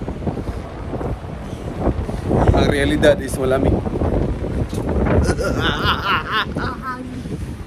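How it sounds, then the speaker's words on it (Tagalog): Strong gusting wind at a beach in Melbourne, Australia buffets the microphone in a steady roar, with people talking loudly over it outdoors. "Mahangin."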